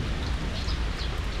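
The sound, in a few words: heavy rain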